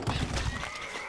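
A horse neighs in the medieval strategy game Stronghold Crusader: a short, close whinny with faint hoof clatter, heard alone over a low game background.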